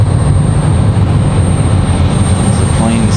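Airplanes at Raleigh-Durham International Airport on a stormy, humid day, with a loud, steady broadband roar of engines close by and no speech heard.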